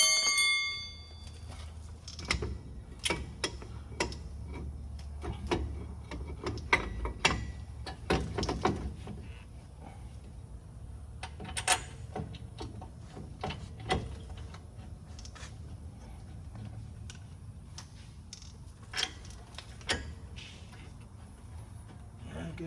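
Ratchet clicks and metallic clanks sound in irregular bursts while a bolt is tightened on a lowering control arm of a 2007-2018 Chevy/GMC truck, close by, with quiet gaps between strokes.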